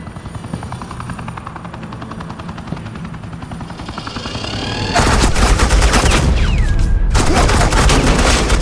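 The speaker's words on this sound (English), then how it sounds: "suppressing fire" Sustained automatic gunfire laying down suppressing fire in the video game Batman: The Enemy Within, a loud dense burst that erupts after a quieter rumbling stretch, with a helicopter-like drone beneath it.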